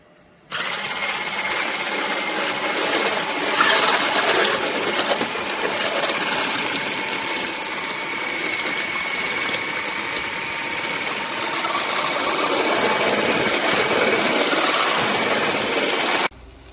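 A cordless variable-speed immersion hand blender runs steadily for about sixteen seconds, a loud, even motor whir with a slight rise in pitch partway through, then cuts off abruptly.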